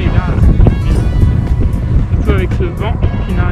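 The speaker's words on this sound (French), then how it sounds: "surtout avec ce vent qui n'arrête pas de souffler." Wind buffets a cyclist riding along the Loire, making a loud, continuous, low rumbling roar with gusts, while a voice talks over it.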